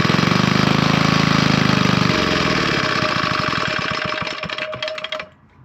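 A rare Villiers MK-9 stationary engine on its first start fires up and runs with a loud, rapid, steady chugging, then its beat slows into separate thuds and it splutters and cuts out at the end.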